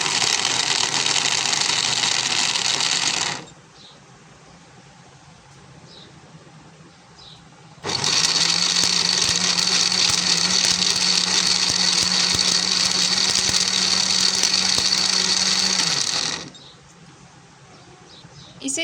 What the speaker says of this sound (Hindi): अब इसे हम बंद करके अच्छे से ब्लेंड कर लेंगे।